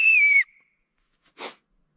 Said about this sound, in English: It's a help me whistle.